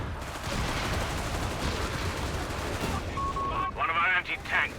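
Machine-gun fire in Company of Heroes 3 during a 2v2 match, a dense continuous rattle of rapid automatic bursts and mixed battlefield gunfire lasting several seconds, fading into scattered effects near the end.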